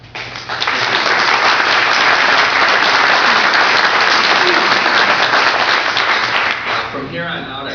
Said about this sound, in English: I'd like to ask that there not be clapping after all the questions and answers